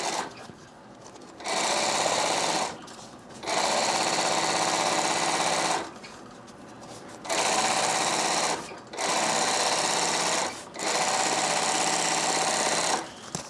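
Sewing machine stitching binding tape around the edge of a backpack strap, running in several loud sustained bursts of two to three seconds each, separated by brief pauses as the strap is repositioned around a curve.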